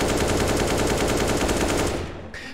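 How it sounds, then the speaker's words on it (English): An AK rifle in the CS:GO video game fires a sustained full-auto burst of rapid, evenly spaced shots, loud and close, for about two seconds before stopping. "so I'm starting off with the AK here"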